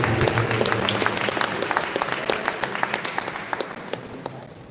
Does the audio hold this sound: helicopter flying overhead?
no